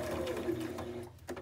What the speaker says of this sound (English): in your sewing machine when you're stitching these together